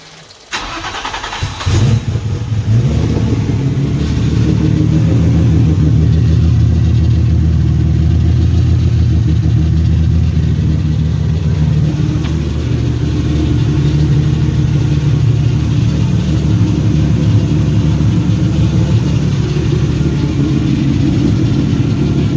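A turbocharged Infiniti G35, built to about 700 wheel horsepower, cranks and fires up for the first time, then settles into a loud, steady, deep rumbling idle that continues without a break.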